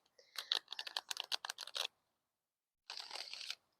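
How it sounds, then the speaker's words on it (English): A deck of cards riffled close by: a quick burst of fluttering clicks, a brief pause, then a second shorter riffle. "Give it one more good shuffle."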